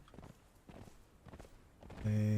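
Soft rhythmic horse hoofbeats in the video game Conan Exiles thud along steadily, then a loud sustained tone cuts in abruptly at the end.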